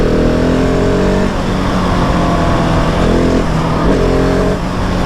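A 2020 Husqvarna 701 SM motorcycle accelerating hard in third gear, a loud, continuous engine roar with rising pitch and a brief dip around a shift, close and dominating with no talk.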